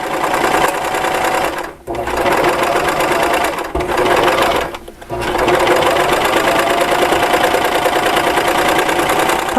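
Baby Lock Celebrate sewing machine stitches quilt pieces in a loud, continuous mechanical whir, pausing briefly twice before running steadily again, close up with no talking.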